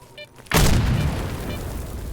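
A grenade blows up in S.T.A.L.K.E.R. OGSR: one sudden, loud, close explosion after a brief quiet lead-in, then a long rumbling tail that slowly fades.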